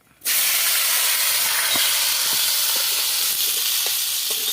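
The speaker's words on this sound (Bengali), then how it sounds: "তেলে আলুটা ভেজে নিচ্ছি" Potato frying in hot oil bursts into a loud, steady sizzle after a brief quiet start, with small crackles and pops scattered through the continuous hiss.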